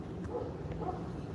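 Dogs bark and yip on an Istanbul street where a dog walker leads a large pack, a few short barks at moderate distance over steady street noise.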